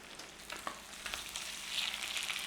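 Pork loin steaks, already cooked sous vide, searing in a hot pan, giving a steady close crackling sizzle with brief louder spits and no voices.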